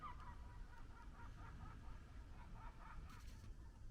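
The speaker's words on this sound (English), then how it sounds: "Don't know if you can hear those birds off in the distance, but sunrise over the lake with the birds." Geese honk faintly in the distance at sunrise over a lake, a loose series of repeated calls drifting over a constant low background rumble.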